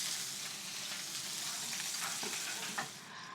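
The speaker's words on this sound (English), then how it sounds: "I'm gonna give the sauce a stir." Sauce simmers and hisses in a pan as it gets stirred, a dense constant sizzle with a couple of soft scraping touches near the end.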